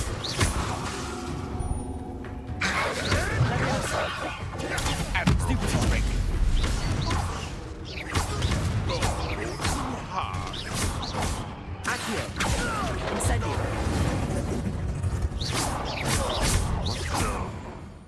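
Game spells from Hogwarts Legacy, Incendio among them, go off in fast succession as whooshes, crackling bursts and crashes over a busy mechanical background, with a voice speaking between the effects.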